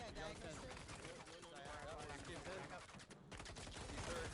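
Rapid bursts of gunfire from a competitive tactical shooter match in a pro league, dense and continuous, playing under a commentator's talk.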